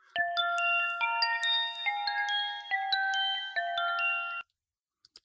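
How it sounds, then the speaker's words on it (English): Bright, ringing bell tones play a steady melodic pattern of overlapping notes, clear and close, then cut off abruptly into silence. "Here it is on some bells."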